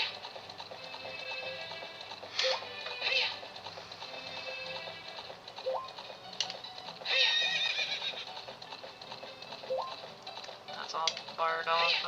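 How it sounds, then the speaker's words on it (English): Horses whinny repeatedly in the Ocarina of Time SpaceWorld '97 beta game, several loud neighs spread across the stretch, with light clip-clopping hooves and game ambience between them and no talking. "I hear what sounds like other horses."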